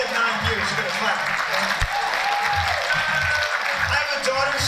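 A school assembly audience in a high school claps steadily for several seconds, a dense wash of applause throughout.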